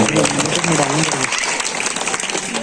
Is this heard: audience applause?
yes